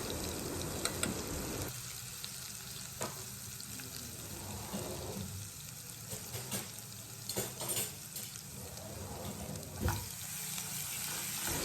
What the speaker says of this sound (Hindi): और फिर इसको थोड़ा सा भूनने दिया।